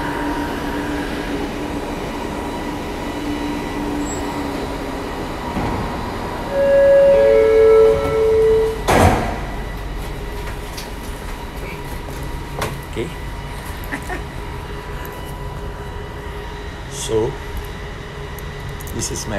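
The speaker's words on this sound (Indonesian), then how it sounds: "this is the train" A light rail train rumbles and hums steadily at close range, with a brief squeal and a loud clunk partway through, over faint background talk.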